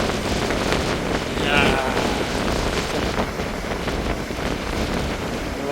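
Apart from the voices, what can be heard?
strong wind and high waves at Aewol beach, Jeju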